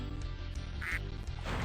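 Ducks quack in a shooting gallery in the Spyro 2 video game, with a sharp nasal quack standing out midway over a busy backdrop of game music and effects.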